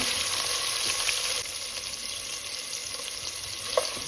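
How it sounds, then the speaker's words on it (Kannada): Chopped onions frying in a pot for a one-pot jackfruit and mushroom biryani, giving a steady, close, moderately quiet sizzle with faint stirring taps and no talk. "ಉಳ್ಳಾಗಡ್ಡಿ ಕೆಂಪಗಾಗುತ್ತಲ್ಲ ಫ್ರೈ ಮಾಡ್ಕೊಳ್ಳೋಣ"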